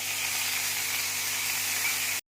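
Sweet corn sizzling in butter with curry leaves in a frying pan: a loud, steady, close hiss of frying that holds constant for about two seconds, then cuts off abruptly, with no talking.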